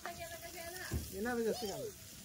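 Food frying in a pan at a family gathering, a soft steady sizzle sitting low beneath Marathi conversation that carries on over it.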